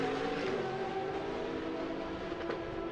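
A car on the Circuit of the Americas circuit during a time attack racing session, engine note steady and loud throughout, with no talk over it.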